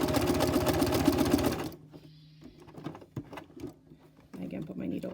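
A sewing machine stitches a patch along the edge of a flag, running fast and loud with a rapid needle rattle for under two seconds, then stopping for quieter handling clicks before starting again near the end.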